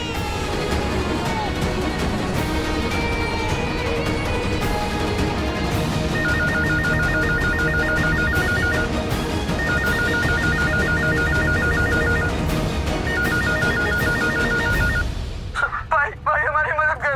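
A phone rings as a call is placed to an office, a repeating electronic ringtone sounding in three bursts over a busy, noisy background with voices, ending in a sudden quiet.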